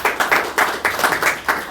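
Audience applause after a presentation: a short burst of clapping from a room of people, with irregular rapid claps pulsing throughout, fairly close and steady for under two seconds.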